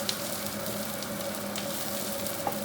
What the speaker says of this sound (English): the onions have been frying